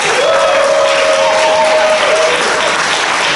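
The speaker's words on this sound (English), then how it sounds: "I would like to ask for applause, Grace Ellen Barkey," Loud, dense audience applause fills a festival forum hall at the Malta Festival, steady and sustained throughout, with a person speaking faintly over the clapping.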